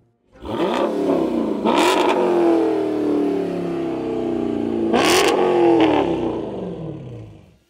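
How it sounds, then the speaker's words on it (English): A deep naturally aspirated V8 Dodge Charger SuperBee engine revs hard twice, roaring up and settling back into a loud, rumbling idle between blips. "It's a V8, naturally aspirated, absolute beast of a machine."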